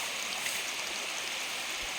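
Huai To waterfall in Thailand flows as a steady, broadband rushing wash of water, constant and moderately distant, with no voices or other sounds breaking through.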